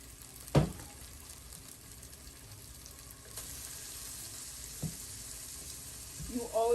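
Vegetables sizzle in a hot pan during home cooking, a faint, steady frying hiss with a couple of sharp clanks of utensils against the pan and a louder stir near the end.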